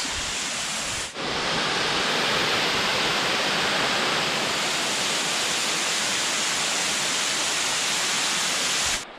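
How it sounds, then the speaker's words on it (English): A waterfall on the Appalachian Trail, heard about halfway up the falls, gives a steady, loud, close rushing roar. It dips for an instant near the start and then holds unbroken to the end. "This is about halfway up the falls."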